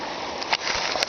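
Steady broadband rush of a waterfall pouring into a clear lake, heard from a kayak, constant and fairly close with a few faint clicks and knocks on top.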